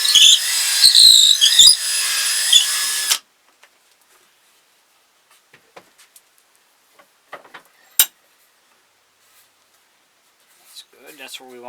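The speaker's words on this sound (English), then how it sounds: "We're going to take a 1/4-inch drill and drill a hole for our neck" A 1/4-inch drill bores a hole into a wooden ventriloquist figure, with a steady loud whir for about three seconds that then stops, followed by faint clicks and handling.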